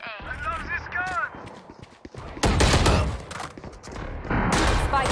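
Gunfire from a gun in a tactical shooter video game, sharp loud bursts in the second half over game sounds, with speech heard earlier.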